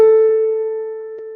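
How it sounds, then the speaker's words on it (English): A440 reference tone at 440 hertz, a pure steady pitch with faint overtones, loud and alone, slowly fading over about a second and a half. "Okay, so A440 sounds like this."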